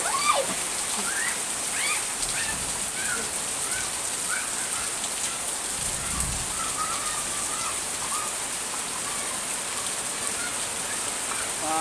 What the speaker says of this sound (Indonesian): hujannya deras begini pasti